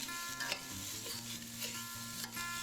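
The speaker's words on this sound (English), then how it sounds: "I just stir this and give it about 2 minutes or so to soften." Browned ground chuck with chopped sweet onion being stirred in a pan, with a soft, quiet sizzle, light scraping strokes and a faint hum in the background.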